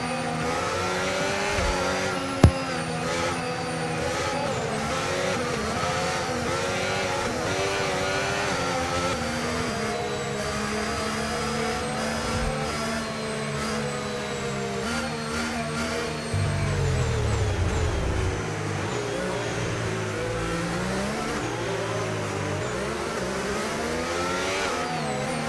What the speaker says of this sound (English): Want to drive some GT3 cars on this track.